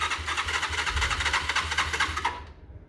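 A Derbi Cross 125 motorcycle with a newly fitted carburettor fires up into a steady, close engine rumble with a buzzy rattle on top, running for a couple of seconds before the higher tones fall away near the end.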